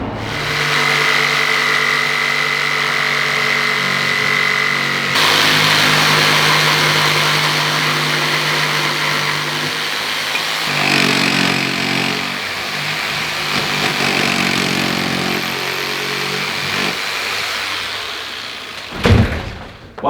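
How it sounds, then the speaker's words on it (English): A jigsaw rough-cuts pieces of Christmas tree wood, a loud, steady buzzing saw drone that runs nearly continuously, shifting in pitch as the blade works through the cut, with a brief sharper burst near the end. "I'm going to rough cut them with the jigsaw"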